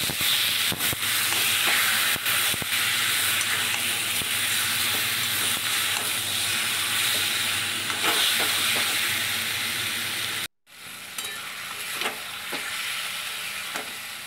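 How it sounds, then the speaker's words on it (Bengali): Whole squeezed lote fish (Bombay duck) hiss and sizzle loudly in a hot wok, a steady broadband frying roar that cuts out abruptly for a moment near the end, then resumes slightly quieter. "লোটে মাছগুলো আমি একটু চিপে তারপরে কড়াইতে দিয়ে দিচ্ছি"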